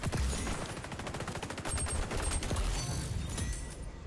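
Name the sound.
PP19 submachine gun firing in video game XDefiant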